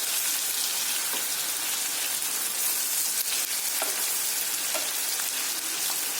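Boal fish fries in hot oil, giving a steady, dense sizzle and crackle close to the pan, with a few faint clicks and no voices.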